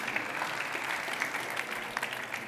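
Steady applause from an audience at a startup pitch event, even dense clapping throughout the short stretch with no voices on top.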